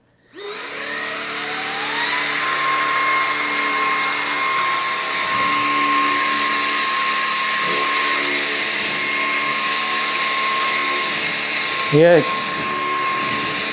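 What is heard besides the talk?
Levoit 300 cordless vacuum cleaner running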